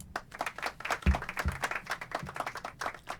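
Light scattered clapping in a video game, a small burst of applause with a few sharper claps, fairly quiet and close.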